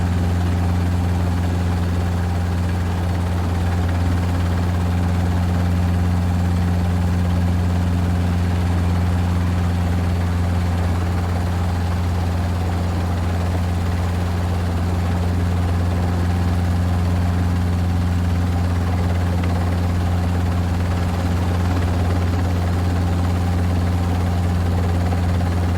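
A helicopter landing at a middle school, its rotor and engine producing a steady low, heavy drone with a constant hum throughout.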